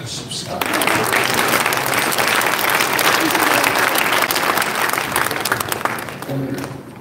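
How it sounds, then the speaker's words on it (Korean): Sustained, loud applause from a congregation at a Korean March 1st Independence Movement anniversary worship service, dense and steady for several seconds before tapering near the end, with no speech over it. "박수 크게 하십시다."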